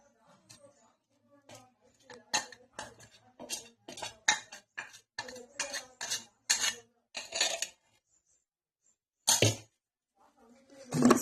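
A spoon clinks and scrapes rhythmically against a bowl while caramel syrup is mixed into banana cake batter, a run of quick sharp taps, then a pause and a couple of louder clatters near the end.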